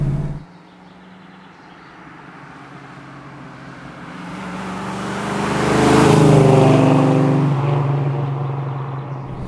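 A 1968 Chevrolet Camaro SS with a 7-litre 427 V8 and manual gearbox rumbles at a deep, loud idle, then revs up to a swelling roar before easing back toward a lower burble, heard up close.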